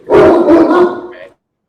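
A dog barks close by at a shooting range, a loud burst of two or three rough woofs in quick succession that then stops.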